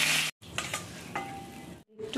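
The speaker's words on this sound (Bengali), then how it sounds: "তো আসুন আমরা আগে পমফ্রেট মাছটাকে ভেজে নিই" Large pomfret fish pieces fry one at a time in hot oil, giving a bright crackling sizzle broken by brief pauses and light scraping of a utensil in the pan, close up with no talk.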